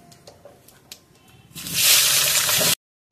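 Large chunks of eggplant and long-cut potatoes hit hot oil with cumin seeds, sending up a sudden loud, hissing sizzle for about a second after some light clatter, before it cuts off abruptly.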